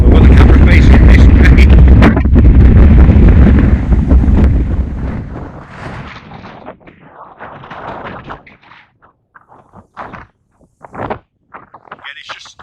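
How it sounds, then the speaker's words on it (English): Heavy wind buffets the microphone with loud low rumbling at first, then eases into gusty bursts and scattered thumps. "And I do apologise for the wind, it's quite windy."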